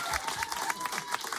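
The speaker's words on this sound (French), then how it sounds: "Applaudissements pour Charlie." Brief burst of audience applause for a singer in a public radio studio, dense clapping with light crowd noise, alone and fairly loud.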